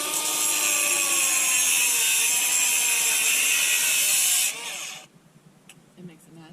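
A power saw cuts through aluminum aboard a boat, a loud, high grinding whine with a shifting pitch that holds steady for several seconds and then stops abruptly, leaving faint clatter and a voice afterward.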